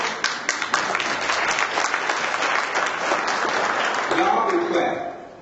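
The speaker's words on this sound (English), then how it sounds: "y'all can clap" Guests at an annual NAACP gala applaud, a loud, full round of clapping with a few sharper individual claps standing out, tapering near the end where a voice briefly cuts in.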